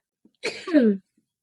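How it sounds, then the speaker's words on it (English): One quick sneeze, close and loud, preceded by a brief sharp intake of breath, then silence. "oh, I have to sneeze"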